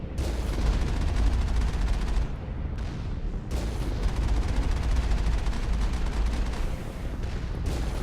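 Rapid turret gunfire in the video game Mass Effect rattles in dense, sustained bursts with one brief pause, loud and continuous with no speech.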